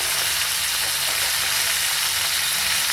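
Bhola fish sizzling in hot oil in a pan, a dense, continuous bright crackle and hiss that stays loud and unbroken for the whole stretch, with no voices.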